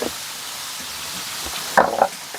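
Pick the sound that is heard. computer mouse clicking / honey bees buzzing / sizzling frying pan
sizzling frying pan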